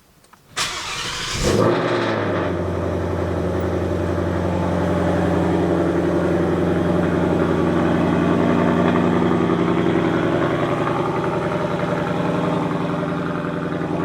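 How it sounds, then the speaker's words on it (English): A 2023 Ford Mustang running E85 with a ghost cam cold-starts with a sharp crank and catch, then settles into a loud, steady high idle that drones on alone for over twelve seconds. "Let's give her her first ghost cam cold start."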